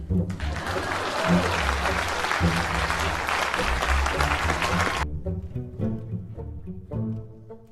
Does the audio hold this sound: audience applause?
yes